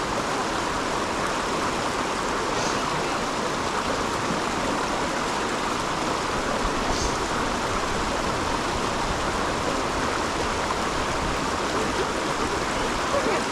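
A fast-flowing stream rushes near Uppermill in Saddleworth, a dense, steady roar of water that holds unbroken and loud from start to finish.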